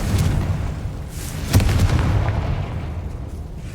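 A Confringo fire spell blasts in the Hogwarts Legacy video game, a low rumbling boom that holds steady with a sharp crack near the middle, then slowly tails off.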